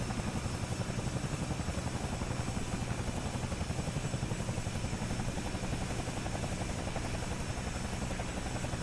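Bell 222 "Airwolf" helicopter in a flight simulator game, a steady loud rotor and turbine drone with a fast rhythmic chop, continuous and unchanging with no talk.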